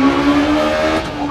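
A Peugeot 306 Maxi kit car engine in a rally video game screams at high revs, a loud, steady, close drone with strong harmonic whine holding through the short burst.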